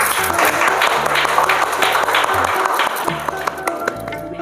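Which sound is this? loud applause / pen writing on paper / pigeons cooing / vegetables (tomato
loud applause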